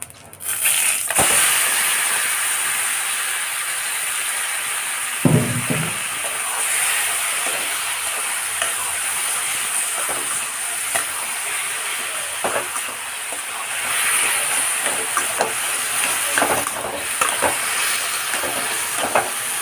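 Boiled taro leaves drop into a pan of hot tempering and sizzle steadily with a loud, continuous hiss, plus a few clattering thuds and utensil scrapes along the way.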